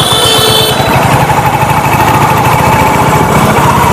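Royal Enfield motorcycle engine running steadily while riding, a loud continuous thumping drone with rushing wind noise throughout, no talking.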